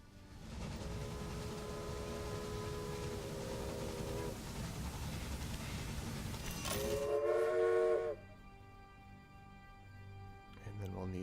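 Train from the video game Railway Empire, a steady rumbling run with rising whistle-like tones, then a louder whistle blast before the rumble cuts off and quieter game sounds remain.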